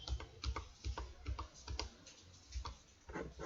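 A password typed on a computer keyboard while creating a Scratch account: a steady, even series of light key taps at a brisk rhythm, quiet and close, with no talking.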